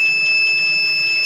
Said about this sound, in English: See, the buzzer and the LED is working.